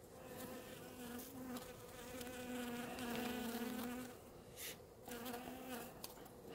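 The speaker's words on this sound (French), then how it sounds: "il y a même des abeilles qui sont en train d'arriver" Honeybees hum around an open beehive while a queen is introduced, giving a soft, continuous buzz that swells and fades as individual bees fly near.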